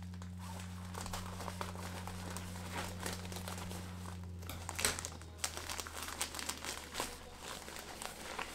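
A paper mail envelope being opened and crinkled, close, quiet rustling and crackling in irregular bursts, with a soft tearing moment midway over a low steady electrical hum.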